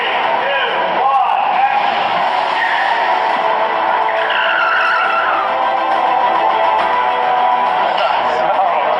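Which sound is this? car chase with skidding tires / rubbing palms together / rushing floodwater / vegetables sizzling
car chase with skidding tires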